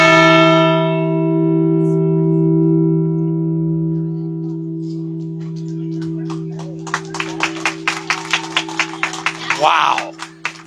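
A Liberty Bell replica made of Arizona copper rings out with a loud, long-sustaining metallic tone that slowly decays. Near the end, a burst of clapping and cheering from a crowd rises over the fading hum.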